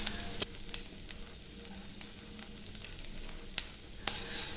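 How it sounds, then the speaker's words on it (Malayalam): Curry leaves and grated carrot sautéing in a pan give a faint, steady sizzle, broken by a few sharp taps and clicks from stirring, with no voices. "നന്നായിട്ടൊന്ന് വഴറ്റി കൊടുക്കാം"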